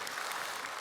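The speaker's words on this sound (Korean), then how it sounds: "뜨거운 박수로 격려해 주시기 바랍니다" A congregation at a church dawn prayer service claps in a dense, steady wash of applause, brief and moderately distant.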